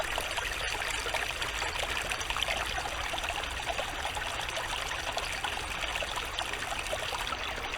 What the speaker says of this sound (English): Running water, just coming through all these roots and this clay